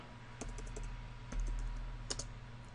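Keys tapped on a computer keyboard while entering Delphi program code, a few sparse clicks and short bursts at close range over a steady low hum, with no voices.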